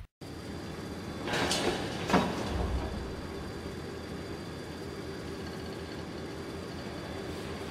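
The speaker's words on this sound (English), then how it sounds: "The train is leaving!" A train pulls away in the video game Secret Files: Tunguska, with a steady rolling rumble, a couple of louder hissing bursts early on, then a continuous even drone of rail noise.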